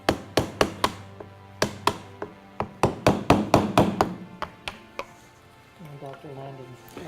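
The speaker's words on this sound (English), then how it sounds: "So chisel, hammer, very much like being a surgeon." A hammer drives a chisel in a run of sharp, evenly spaced taps that come in quick bursts, followed by a brief voice near the end.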